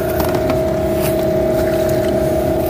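A Parsun T15BMS 15 hp outboard boat motor runs steadily at low idle, a loud continuous drone with a constant tonal hum and no voices.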